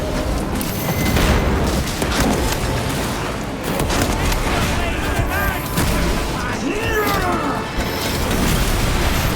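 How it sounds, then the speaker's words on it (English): Crack grenade detonates amid continuous loud booms and gunfire in the Warhammer 40k Space Marine 2 video game, part of a dense, sustained battle din. "Deploying crack grenade."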